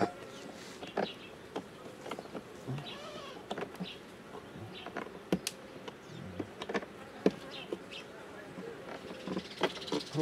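Honeybees from a weak, struggling colony buzz steadily around an open beehive during preparation and treatment work, a continuous close insect hum with scattered sharper knocks and handling noises, and a voice speaking faintly in the background.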